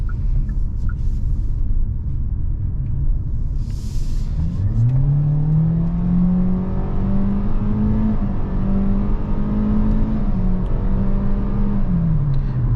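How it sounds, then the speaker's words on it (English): A 2024 Hyundai Kona SEL with an IVT transmission accelerates onto a highway: engine drone climbs steadily in pitch over about eight seconds, with simulated shift steps, above constant road and wind rumble. No one speaks. "Let's go ahead and do another acceleration."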